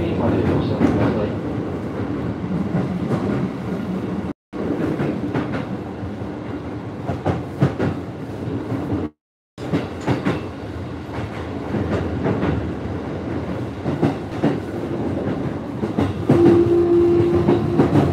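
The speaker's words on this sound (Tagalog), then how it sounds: "Train going to Ueno, so keep watching." A passenger train runs toward Ueno in Japan, heard from inside as a steady rumble with rhythmic clickety-clack of wheels on rail joints, loud and continuous with two brief breaks.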